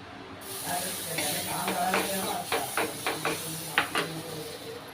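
Butter sizzles on a hot pan while cheese butter aloo paratha cooks, giving a steady hiss with a string of short crackling pops in the second half.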